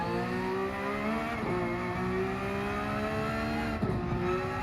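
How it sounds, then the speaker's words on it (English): Porsche 992 GT3 R race car in Gran Turismo 7 holding a steady loud engine drone, broken by two sharp downshifts with quick rev blips, alone without voices. "I'm liking the sound of those downshifts."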